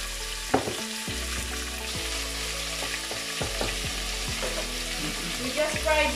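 Beef sizzles in hot oil for a goulash, with a steady loud frying crackle, occasional clanks of a stirring utensil against the pan, and a brief voice partway through.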